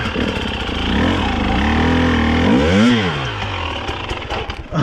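A Husqvarna TE300i enduro motorcycle engine revs hard and steady while the rear wheel spins on loose, grip-less ground. The tone sweeps up and down near the bike, and debris clatters underneath.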